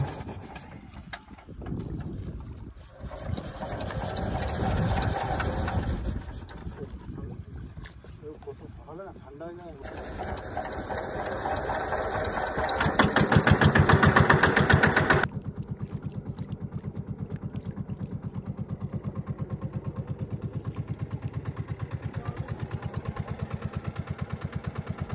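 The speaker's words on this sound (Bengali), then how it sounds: "এবার কিন্তু আমরা মেশিন স্টার্ট দিয়ে বেরিয়ে যাব" A small river fishing boat's engine on the Matla River sputters and catches after shuffling and voices, then settles into a loud, steady, close chugging drone.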